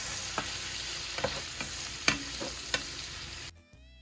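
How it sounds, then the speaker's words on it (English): Minced garlic is stirred into bacon in a pan as the base of a carbonara sauce: a soft crackling sizzle with scattered scrapes and taps of the utensil, then a sudden cut to quiet near the end. "mix that garlic in."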